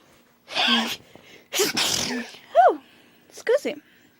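A person sneezes close to the microphone, a strong burst of breath, then speaks briefly afterward in a quiet indoor setting.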